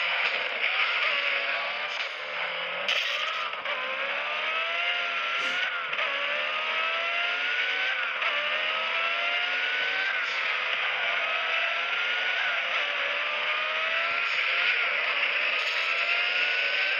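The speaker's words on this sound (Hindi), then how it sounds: "गाड़ी बहुत तेज भाग रही है।" A car speeds flat out in a traffic racing video game, its engine a steady, loud synthetic whine that rises and falls with gear shifts throughout, with no talking over it.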